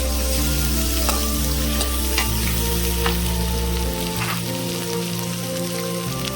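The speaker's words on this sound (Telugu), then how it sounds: "అల్లం వెల్లుల్లి పేస్ట్ కూడా యాడ్ చేసుకున్నాం." Ginger garlic paste fries in a pan for a village-style chicken fry, giving a loud, steady sizzle with crackling pops throughout and no talking.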